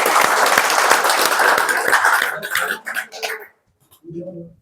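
Loud, dense audience applause with scattered cheers at an honouring ceremony for chief guests of a livestock breed-improvement mission, fading out near the end before a brief voice returns.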